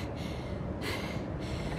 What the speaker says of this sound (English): He's breathing.